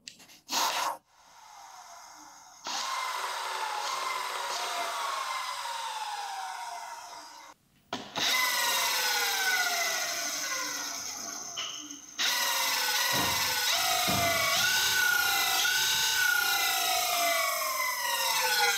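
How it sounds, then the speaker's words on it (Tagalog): An electric scooter hub motor on a Dualtron Victor Luxury controller whines in several runs, its pitch sweeping up and down as it speeds and slows, spinning in reverse, with brief clicks and pauses between. "pakinggan nyo yung tunog ng motor"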